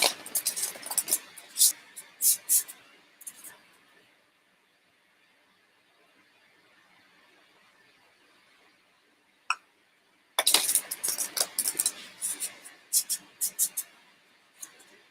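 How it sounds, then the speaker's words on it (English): A tarot card deck is shuffled in crisp, rapid bursts of riffling clicks. One run lasts a few seconds, then a quiet pause, then a second longer flurry of shuffling close by. "Give it a few shuffles."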